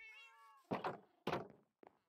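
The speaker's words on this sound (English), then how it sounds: "Meow indeed, meow indeed." Minecraft cat meowing in a video game: a clear, wavering tonal meow rising and falling alone, followed by a couple of dull in-game thumps and a short knock.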